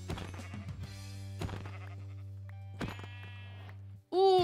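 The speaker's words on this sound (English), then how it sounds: "Okay, go kill that sheep, please." Sheep bleating in the video game Minecraft, several wavering digital bleats over a steady low in-game hum, ending with a louder sharp cry.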